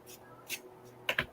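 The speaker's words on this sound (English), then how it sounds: "I'll probably start typing" Typing on a computer keyboard, heard as a handful of faint, scattered key clicks with a quick double tap near the end, quiet and close.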